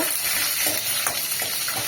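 Bay leaf, two dried red chilies, cumin seeds and five-spice seeds frying in hot oil, giving a brief, continuous close crackling sizzle with a few soft pops, alone without speech.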